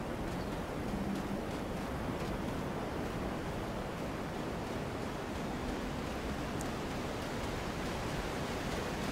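Steady, even rush of flowing water in Skyrim, a continuous broadband wash at moderate level with no other clear sounds on top.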